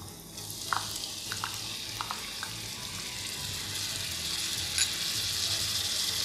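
Tomatoes going into garlic frying in a pot for chicken kabsa, giving a soft continuous sizzle that builds slightly, with a few light clinks of a spoon early on.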